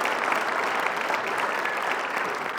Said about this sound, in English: So how about a round of applause for what the great work they've done.